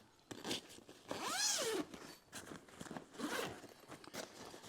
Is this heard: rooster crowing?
no